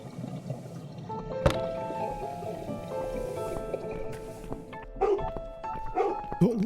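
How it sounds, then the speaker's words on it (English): Dog barking in The Cat Lady video game, a few sharp barks rising over a steady musical and ambient game backdrop, moderately loud and close. "Your dog is making horrible noise."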